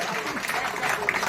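A live audience breaks into steady, dense clapping at a public speech event, loud and continuous throughout, with crowd murmur mixed in.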